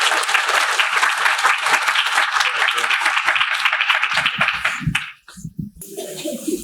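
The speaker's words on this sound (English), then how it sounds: "One more round of applause, please." An audience at an awards ceremony for writers applauds loudly and steadily for about five seconds, then the clapping breaks off and a few scattered claps and some noise remain.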